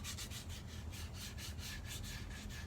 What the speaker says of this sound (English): I have a piece of 220 grit sandpaper, and I'm going to just get those edges nice and smooth.